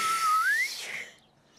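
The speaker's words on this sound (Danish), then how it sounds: "Man skal øve sig, før man kan fløjte." An attempt at whistling through pursed lips in a Danish children's cartoon: a single thin, wavering tone that bends upward, then breaks off into breathy air before fading out.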